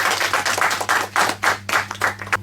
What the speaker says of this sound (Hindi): एक बार जोरदार ताली हो जाए नीलांश के लिए